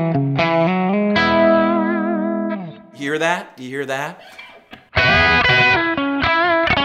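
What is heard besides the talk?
electric guitar through Kemper without high-end roll-off EQ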